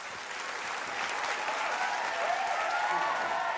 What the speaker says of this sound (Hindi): जोरदार तालियां सारे कंटेस्टेंट्स के लिए।